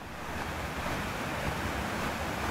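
Water running down a hiking trail over stones, a steady broadband rush close by with some wind noise, continuous and fairly loud, without speech.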